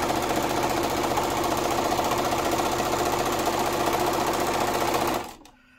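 A sewing machine runs steadily, stitching a straight quilt seam a presser foot's width from the edge, then cuts off sharply near the end; close, continuous whirring with no talk.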